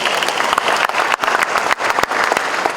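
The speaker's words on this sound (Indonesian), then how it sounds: "Tepuk tangan untuk Pak Gubernur." A crowd at an official installation ceremony for the West Papua BPKP representative applauds the governor, a loud, steady round of many hands clapping with a few sharp individual claps standing out.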